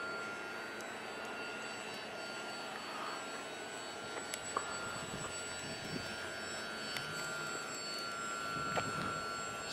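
A model airplane engine drones at three-quarter throttle during an endurance test flight. It sounds faint and distant, with a thin, steady whine that shifts slightly in pitch as the plane moves through the air.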